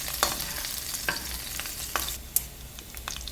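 Dried chilies and garlic sauté in a pan for spicy pasta, giving a steady background sizzle broken by a few sharp scrapes and clicks of stirring, with no voices.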